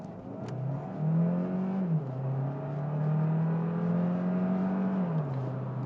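A Hyundai Tucson Hybrid accelerates hard, heard from inside the cabin as a steady rising engine drone that climbs in pitch, dips briefly at a gear shift, then rises again and dips once more near the end.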